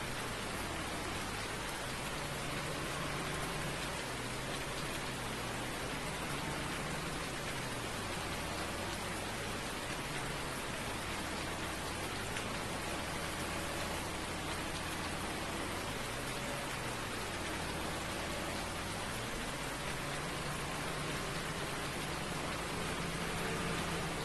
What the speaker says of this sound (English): I think it's just going to be raining all day.